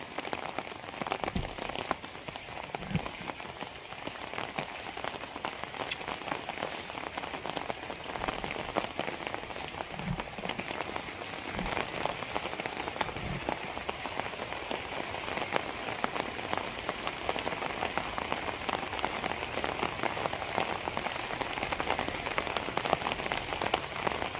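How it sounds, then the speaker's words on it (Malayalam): Steady rain pattering on a surface, dense and continuous throughout, with occasional heavier drops standing out and no voices. "ആൺമയിലാണ് മഴ ആസ്വദിച്ചിരിക്കുക"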